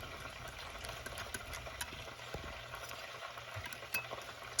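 Bacon-wrapped pineapple pieces fry in a pan over medium heat, a soft, continuous sizzle with scattered pops and light crackles, fairly quiet and close.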